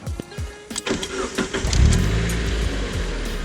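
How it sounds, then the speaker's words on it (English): A stock car engine cranks with a few quick starter whirs, catches and fires, then settles into a loud, steady rumbling idle close by. "what you want to do is start the car."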